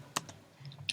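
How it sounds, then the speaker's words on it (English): A few quiet computer keystrokes tap out a short command on a keyboard, with brief gaps between the clicks in an otherwise still room. "Then let's type the command"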